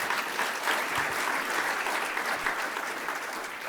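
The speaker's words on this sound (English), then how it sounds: "So please, one more round of applause for him." An audience at a Southern California water infrastructure panel applauds Mayor Villaraigosa, giving a dense, steady wash of clapping from many hands that holds at an even level throughout.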